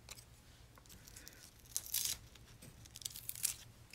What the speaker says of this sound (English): now I'm going to remove my tape up here.